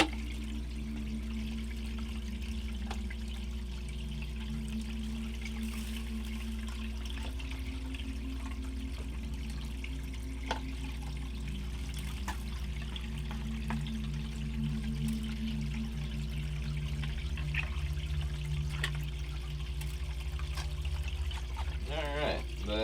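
Water runs in a steady, continuous trickle through a gold prospecting sluice while sorting paydirt, with a constant low rush and light splashing throughout and no talking.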